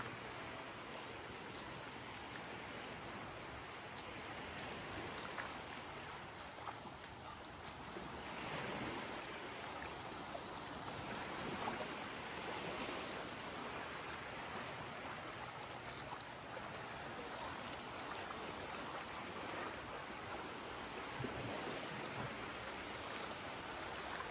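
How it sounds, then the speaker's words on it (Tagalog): Heavy ocean surf at Boracay Island roars steadily, with big waves breaking and washing in continuously and no voices. "Parang malaki-laki yung alon mga kaisla."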